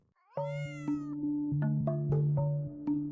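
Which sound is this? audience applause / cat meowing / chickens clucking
cat meowing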